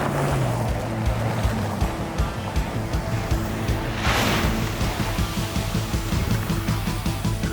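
A truck plows through water, a loud, continuous rumbling wash of water and engine noise close up, with a brighter splash surge partway through.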